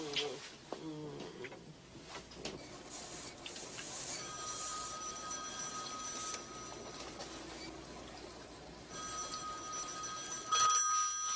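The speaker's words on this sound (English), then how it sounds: "answer the phone." A telephone rings indoors in two clear bursts of steady, bright electronic ringing over a quiet room, with a short final ring near the end.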